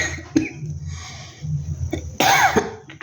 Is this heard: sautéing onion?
no